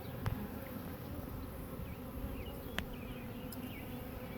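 Honeybees hum in a steady, dense drone from an open hive during a beekeeper's inspection of frames holding pollen and nectar. The buzz is close and continuous, with a few faint clicks and knocks.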